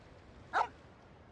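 A single short dog bark or yip, sharp and moderately close, over a quiet background, with a faint click near the end.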